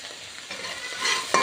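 Dried shrimp crackle in mustard oil over a low flame, a soft sizzle building to louder stirring scrapes and a sharp clink near the end.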